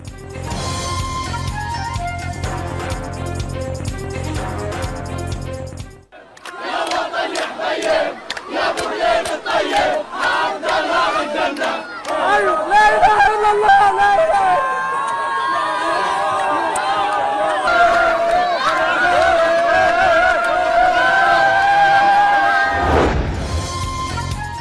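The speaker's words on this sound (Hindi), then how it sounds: "बच्चे, बूढ़े और जवान सड़कों पर निकल आए।" Crowds of Palestinians of all ages celebrate in the streets of Khan Younis, a dense, loud roar of many voices with shouts and chanting that swells and holds steady after a brief lull.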